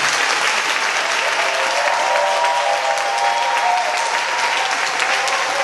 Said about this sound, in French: on va acclamer Dieu comme des enfants de Dieu qui sont réunis ici